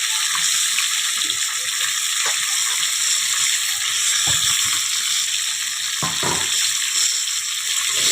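Water pours into a pot of goat mutton curry with fried potatoes, making a steady, continuous gushing hiss that runs evenly for the whole stretch, with a few soft knocks underneath and no talking.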